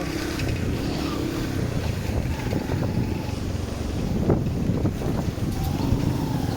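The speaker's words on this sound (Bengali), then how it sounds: "প্রচুর বাতাস এলাকার।" Strong storm wind roars steadily and close in a rural village, a continuous low buffeting rush with occasional gusts and no one speaking.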